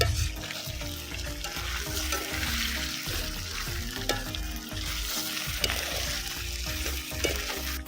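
Potatoes sizzle and fry in a pan with homemade Bengali chicken curry, a steady loud sizzle under repeated scraping and stirring strokes, with no talk.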